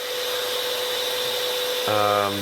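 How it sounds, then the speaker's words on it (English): A hoover sucks silt from a garden pond, giving a steady whirring drone throughout. Near the end the motor's pitch shifts to a deeper, louder, buzzing tone as the suction takes in material. "Just going to get the hoover down here and clean some of the silt out that's built up while I've been working."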